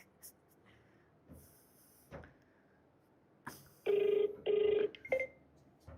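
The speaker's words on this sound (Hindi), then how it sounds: "प्रशांत सर को कॉल करें।" An outgoing phone call rings back with two long, evenly spaced ring tones near the end, following some quiet handling noises and brief rustles.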